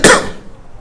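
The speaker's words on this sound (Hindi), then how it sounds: "थोड़ा खांसी भी आ रही" A single sharp, loud cough close by from someone who is feeling unwell, with a quick burst that fades into near silence.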